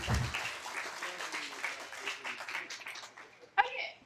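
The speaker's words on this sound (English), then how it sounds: "let's give another round of applause to both of our speakers" Moderate clapping from a small live audience at an astronomy talk in a bar, fairly close and uneven, with some chatter and a chuckle mixed in and a sharp knock near the end.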